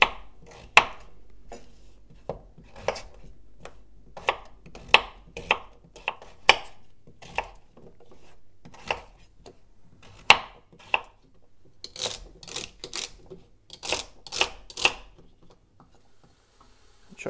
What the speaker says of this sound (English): You want to roughly chop up your veg.